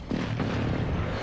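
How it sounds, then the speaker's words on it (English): A deep rumbling airstrike explosion booms in a video game, a loud sustained blast with heavy low-end roar filling the whole moment. "Friendly airstrike on the way."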